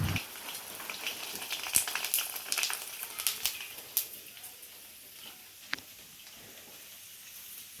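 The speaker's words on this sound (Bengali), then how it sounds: "চলো বন্ধুরা আমি ফুচকাগুলো ভেজে নিই, কারণ অনেকগুলো ফুচকা ভাজতে হবে।" Fuchka (puchka) dough puffs frying in hot oil, giving a continuous crackling sizzle with scattered sharp pops, close up and busiest at the start before settling into a quieter hiss.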